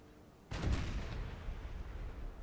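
A single cannon shot in Napoleon Total War, a sudden deep boom that rolls into a long, low rumbling tail, moderately distant against quiet battlefield ambience.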